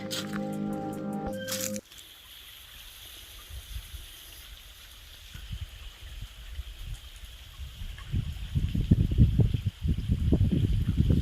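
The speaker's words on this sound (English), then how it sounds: "enjoying the sound of the water running on the ravine" Running water in a ravine stream murmurs steadily through the clip, swelling louder toward the end with splashy bursts; an unrelated brief sound opens it.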